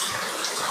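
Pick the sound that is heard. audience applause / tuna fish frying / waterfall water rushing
waterfall water rushing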